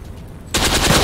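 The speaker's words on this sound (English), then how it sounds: "Tommy gun." A Tommy gun fires in Forgotten Hope 2, breaking out suddenly after a quiet moment into a loud, close, continuous automatic burst with no talking.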